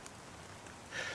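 Rain falling in Richmond, BC, a soft steady patter with a slightly louder burst near the end, faint and with no talk.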